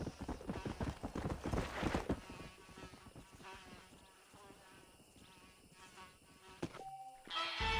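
Horse hooves clip-clopping in Red Dead Redemption, a quick, loud run of hoofbeats at the start that slows and fades into quieter ambient game sound, with a sharp burst of noise near the end.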